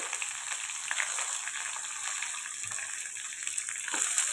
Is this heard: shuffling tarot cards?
no